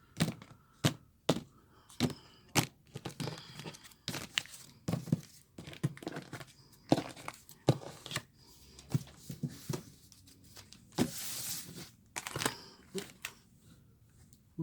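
A tarot card deck being cut and its cards flipped: close, irregular slaps, snaps and papery rustles spread across a long stretch with brief quiet gaps, no talk.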